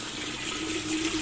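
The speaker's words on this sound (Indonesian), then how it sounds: "Caina herang ngagolokok jeung non stop." Clear, cold natural spring water pours nonstop from a bathing spout in a village washroom in Surupan, Sadawangi, Lemahsugih, Majalengka: a steady, close, full gushing splash with no pauses.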